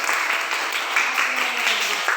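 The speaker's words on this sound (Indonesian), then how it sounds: "sekarang sekali lagi kita tepuk tangan untuk kita semua" A classroom of young children claps together at the end of a school lesson, a brisk, even rattle of small hands that stays steady throughout, close and fairly loud.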